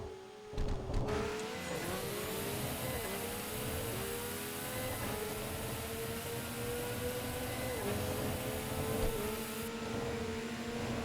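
A race car engine in a video game holds a steady high drone at sustained speed, pitch dipping briefly at gear changes, loud and continuous.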